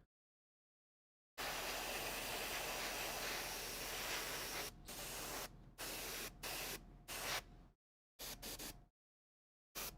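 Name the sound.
Iwata HPCS airbrush spraying paint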